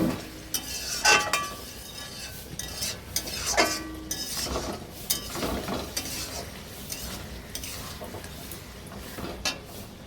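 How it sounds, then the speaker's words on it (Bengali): Chicken cooking in its own juices in a pot for a light curry, stirred with a metal spoon, giving a soft sizzle under recurring scrapes and clinks against the pot, close and without talk. "আস্তে আস্তে ঢাকা দিয়ে দিয়ে কষে নেব ভালো করে।"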